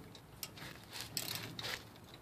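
A wrench tightens the parking brake pad bolts on a GM vehicle, giving faint, close ratcheting clicks in a few short bursts.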